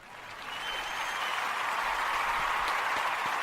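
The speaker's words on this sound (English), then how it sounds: "Clap it up for yourself, man." A crowd breaks into steady applause that swells within the first second and holds as an even, full wash of clapping for a few seconds.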